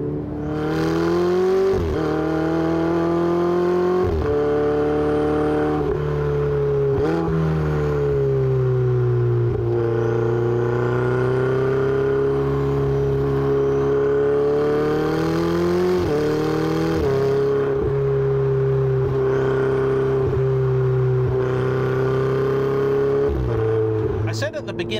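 A Ferrari 488 GTB engine revving while driving, loud and sustained, with rising and falling pitch as it accelerates through gears, close up with no talking.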